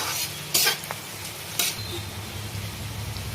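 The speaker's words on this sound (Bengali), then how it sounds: "পেঁয়াজটা একটু গোল্ডেন কালার করে ভাজবো" Onions frying in a pan for a soya Mughlai curry, a low steady sizzle broken by a couple of brief louder stirring scrapes.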